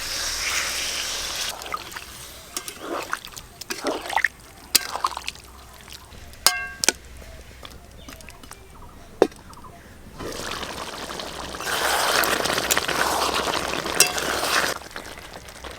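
Water is poured into a pan where potatoes and pointed gourd have been fried down with spices for a curry, producing a loud, steady rushing hiss that swells and holds for several seconds after a few earlier clinks and scrapes.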